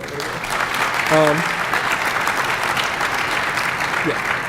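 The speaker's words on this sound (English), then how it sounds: "give him another round of applause." An audience claps steadily throughout, a dense wash of applause from a sizable crowd at a talk introduction, with a brief voice cutting in near the start.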